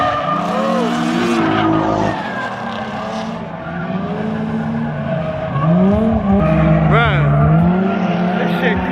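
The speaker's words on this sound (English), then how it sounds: "We out in Richmond at this little drifting event." Cars drifting at a small drifting event in Richmond, engines revving and wavering in pitch alongside squealing tires, loud and close, with voices talking over the action.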